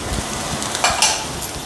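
Chopped vegetables, capsicum, cabbage and green chilli, sizzle and are stirred in a pan for vegetable fried rice, a steady soft frying hiss with a few louder scrapes of the spatula.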